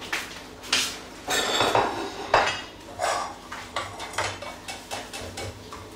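Plates and cutlery clatter and clink at close range in a kitchen while a breakfast omelette is about to be plated, with a run of sharp knocks and scrapes spread across the moment and no voices.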